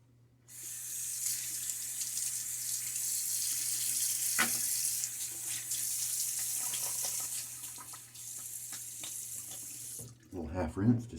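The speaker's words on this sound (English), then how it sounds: "A little half rinse just to kind of rehydrate." Tap water runs steadily into a sink for a partial rinse between passes of a wet shave with a Fatip Piccolo open-comb safety razor and a Gillette Nacet blade. The flow is close and continuous for about ten seconds, then stops and gives way to brief handling noises.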